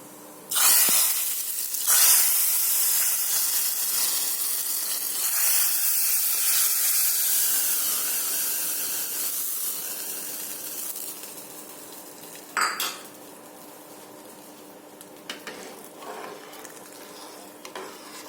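Spices and cumin seeds hit hot oil for tempering masoor dal, bursting into a loud, bright sizzle that gradually fades to a softer hiss, with a few clinks of stirring near the end.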